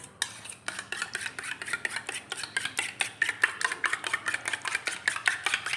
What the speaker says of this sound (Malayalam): സ്പൂൺ വെച്ചോ അല്ലെങ്കിൽ വിസ്ക് വെച്ചോ എങ്ങനെയായാലും കുഴപ്പം നമുക്ക് നന്നായിട്ട് അടിച്ച് പറപ്പിച്ച്